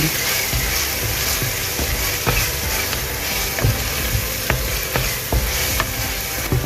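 Steady loud sizzling of onions frying in a pan, with occasional sharp clicks and scrapes of stirring throughout.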